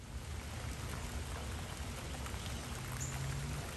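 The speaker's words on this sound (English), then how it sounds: "On this rainy day, I decided to sit by my door with the door wide open and listen to the rain." Steady rain falls just outside a wide-open door on a rainy day, a dense, even hiss of drops landing on surfaces. It stays soft and unbroken throughout, with no voices.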